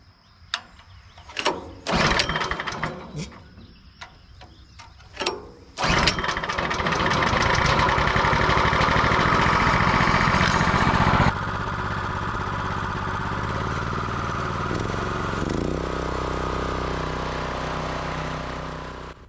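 A small Kohler engine on a PowerKing 22-ton kinetic log splitter is pulled over a few times, then catches and runs at a steady, loud drone that settles slightly lower partway through.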